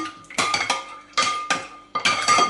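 Spoon clinking and scraping against a bowl while gelatin is stirred into milk, several bursts of quick metallic taps and rattles, close and fairly loud, with no talking.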